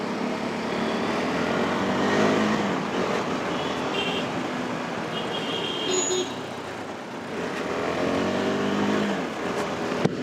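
A KTM 390 Adventure motorcycle rides along a roadway, its engine droning and revving under steady road and traffic noise, with a fairly constant loudness and a brief dip partway through.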